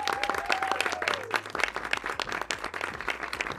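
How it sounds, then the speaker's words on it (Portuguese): A studio audience at a Brazilian talk show claps steadily and loudly for several seconds, with a brief sung or whistled tone at the start. "Palmas!"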